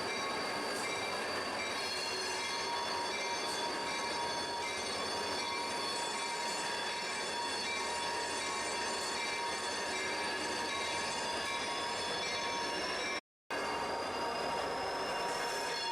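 A train rolls steadily along rails in the SnowRunner video game, with a continuous rumble and a high metallic wheel squeal. The sound holds constant throughout, with one brief dropout near the end.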